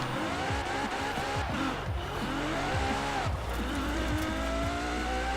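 A loud Apollo IE engine revs in Forza Horizon 4 with a continuous roar and repeated sharp throttle blips, with tire squeal mixed in and no talking.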